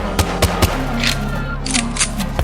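Gunfire from a ghost girl shooting at enemies during a fight in an audio drama, heard as a few sharp, loud shots spaced irregularly over a low rumbling background.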